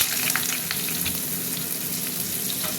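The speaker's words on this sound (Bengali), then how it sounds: "এবার আমি সবজিগুলো দিয়ে দিচ্ছি" Vegetables for a Bengali mixed-vegetable jhol hit hot oil with a strong, steady sizzle, dense and close, scattered with small crackles and no talking.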